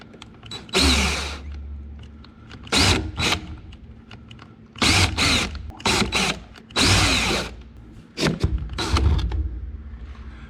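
Bursts of a DeWalt power tool driving fasteners while installing a front splitter and side skirts on a Corvette C8, several short loud runs of a few seconds each with pauses between, close to the microphone.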